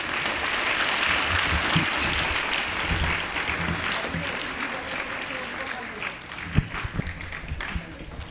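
An audience at a school annual day function claps steadily and loudly, a dense wash of applause that fades slightly toward the end, with a few louder individual claps.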